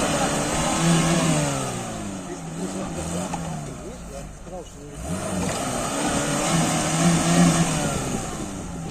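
An off-road vehicle's engine revs and strains under load, rising and falling in pitch, with people shouting and talking over it throughout.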